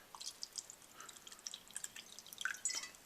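Vinegar trickles into a quarter-cup measure in a kitchen. The pour comes through as faint, scattered drips and small splashes that grow slightly busier toward the end, with no talking.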